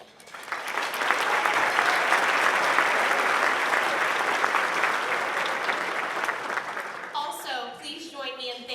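An audience at a town's State of the Town presentation applauds sponsors, the clapping swelling quickly, holding steady for several seconds and fading as a voice begins speaking over its tail.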